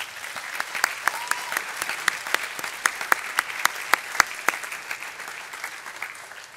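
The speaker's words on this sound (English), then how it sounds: "So, big round of applause for our four judges." An audience claps for four judges at a healthcare wearables challenge event, with steady applause running several seconds at moderate volume and sharp individual claps standing out through the wash, no talking over it.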